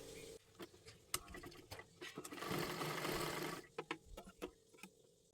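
A home sewing machine runs in short bursts and one longer steady run, stitching two layered pieces of kathpadar saree fabric together for a fancy dress. The motor whirs close up with small clicks between runs.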